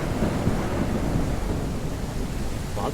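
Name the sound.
thunder in a video game storm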